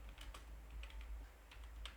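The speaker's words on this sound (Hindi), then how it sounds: "तो यहाँ पे हम टाइप कर लेते हैं स्टॉप" Keys clatter on a computer keyboard in a quiet room, a steady run of light, close taps in short bursts with no voice over them.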